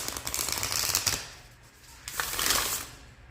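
Cards being shuffled for a pick-a-pile tarot reading, two bursts of quick riffling and shuffling separated by a short pause, close and fairly loud with no talking.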